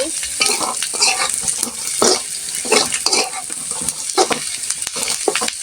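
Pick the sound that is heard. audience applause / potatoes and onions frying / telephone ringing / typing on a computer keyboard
potatoes and onions frying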